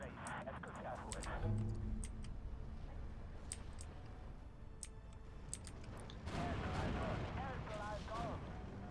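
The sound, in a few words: mortar fire in video game Steel Division II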